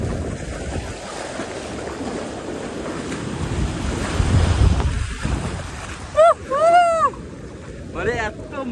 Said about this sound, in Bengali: ওটা ঢেউটা দেখো, আবার ঢেউটা আসছে দেখো।